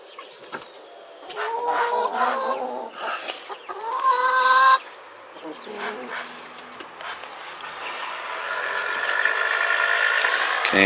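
A rooster clucks up close in a run of loud, throaty calls, one drawn-out squawk, with chickens and chicks around him and a few softer clucks after.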